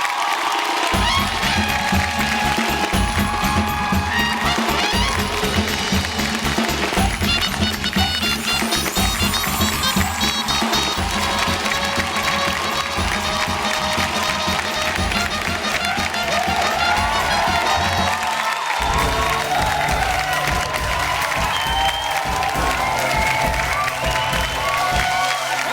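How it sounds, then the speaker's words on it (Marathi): A studio audience at a Marathi TV show claps and cheers without pause, loud applause mixed with whoops and shouting voices throughout. "एकदा जोरदार टाळ्या होऊन जाऊ दे, जोरदार टाळ्या."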